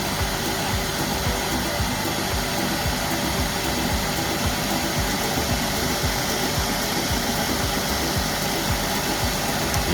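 A Stairville HZ-1500 hazer machine runs with a steady, loud broadband whir and hiss like a fan-driven blower, constant and unbroken throughout with no voices.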